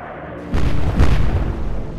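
Naval gunfire striking a destroyer in the warship game Atlantic Fleet: two heavy, booming impacts about half a second apart, the second louder, each followed by a rumbling rolling tail.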